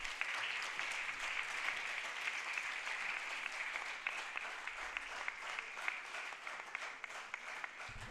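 Audience applause at a campaign launch against child hunger and malnutrition, a steady, even clapping from a large crowd that sounds somewhat distant and continues throughout.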